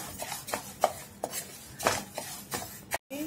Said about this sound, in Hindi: उसे भी हम मीडियम हीट के ऊपर ऐसे भून लेंगे लगातार चलाते हुए